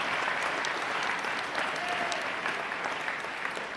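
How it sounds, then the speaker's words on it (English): An audience at an NYPD promotion ceremony breaks into sustained applause, dense steady clapping from a large crowd filling the hall throughout, with no one speaking over it. "Go ahead, clap"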